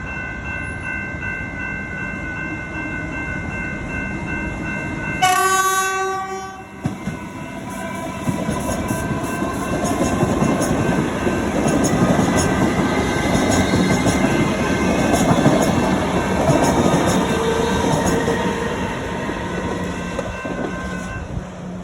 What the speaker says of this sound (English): The gates are just coming down and I'm rushing to get the train. The train that's coming is a Alston Cummins refurbished.